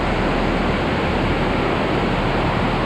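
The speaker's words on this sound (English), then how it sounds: "Started raining right as I pulled out of the field." A heavy rain shower falls on a farm in eastern Iowa, a dense, steady, broadband hiss that stays loud and unbroken throughout, with no voices.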